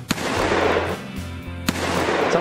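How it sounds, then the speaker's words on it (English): Two sharp gunshots from a weapon in the Roblox Wild West game ring out about a second and a half apart, each loud and close over a constant low droning hum. "I know some of you will just aim and shoot like this"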